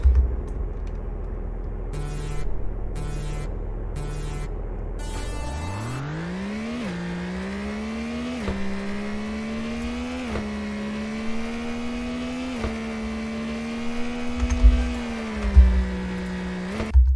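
A race car in the video game Car Dealership Tycoon idles briefly, then its engine revs up sharply and climbs in pitch through a series of gear shifts, a whining, synthetic engine tone that holds steady at speed.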